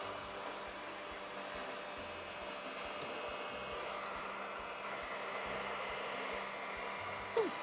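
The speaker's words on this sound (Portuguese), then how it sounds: "eu vou secar agora rapidinho com secador de cabelo" A handheld hair dryer blows steadily and loudly for several seconds while drying craft paint, a constant airy whoosh with a faint motor whine, ending with a brief knock near the close.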